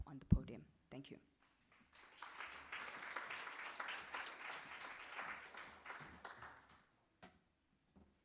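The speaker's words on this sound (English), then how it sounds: "give him a round of applause" Audience applause at a stakeholder roadshow event in Durban rises after a few brief voices and claps, swelling into steady moderate clapping for several seconds before fading into quiet, with a couple of stray taps afterward.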